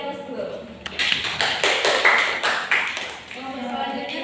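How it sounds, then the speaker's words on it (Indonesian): A classroom gives a short round of clapping, a dense patter of claps over about three seconds that fades out. "Beri aplaus dulu."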